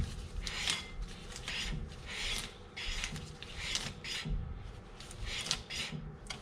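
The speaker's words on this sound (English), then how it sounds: "Rotor spins freely-ish." Brake rotor on an E21 BMW 320i with a Euro rear disc swap, spun by hand and slightly rubbing against the pads, producing a faint rhythmic scraping swish that pulses repeatedly in an even cycle.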